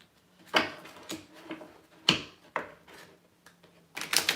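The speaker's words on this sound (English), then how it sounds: "I'm going to shuffle these good." Tarot cards shuffled by hand in a series of crisp riffling bursts and slaps, loud and close, separated by short pauses, with a faint low hum beneath.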